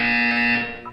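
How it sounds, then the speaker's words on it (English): A loud, harsh electronic buzzer from the Portal 2 test chamber sounds in one sustained blare, then cuts off with a brief stutter at the end. "You will hear a buzzer"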